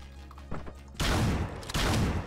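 Gunshots in Hotline Miami 2, a few close, loud blasts that burst out abruptly and ring on, with one sharp shot midway and a heavier sustained burst after.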